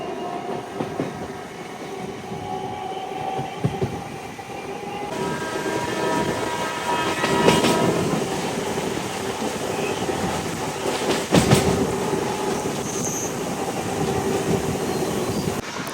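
A MEMU passenger train on the Kacheguda to Raichur route runs at speed, heard from onboard as a steady rolling rumble with rail clatter and a few sharp clanking bursts from the track.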